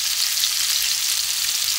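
Sole fillet frying in a pan gives a continuous bright sizzling hiss, steady and close, with no voices.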